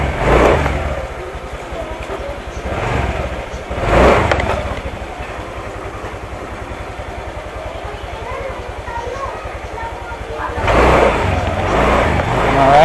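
A Honda Click 150 scooter restarts from its automatic idling stop and pulls away, a steady mid-pitched engine drone that swells in loud surges of acceleration, recorded up close.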